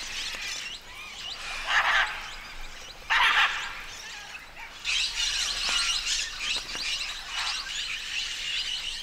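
Scarlet macaws and small parrots calling at a clay lick, with bursts of harsh squawks and chattering calls from a flock, moderately close and separated by brief lulls.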